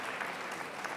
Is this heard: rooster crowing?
no